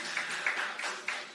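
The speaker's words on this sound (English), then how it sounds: "so give yourselves a round of applause" Faint scattered clapping from a hockey game audience, a soft distant patter with a few sharper claps standing out over a brief moment.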